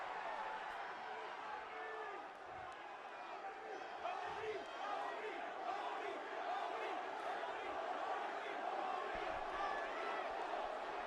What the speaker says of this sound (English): Crowd erupts.